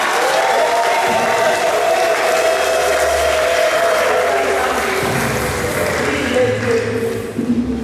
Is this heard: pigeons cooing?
no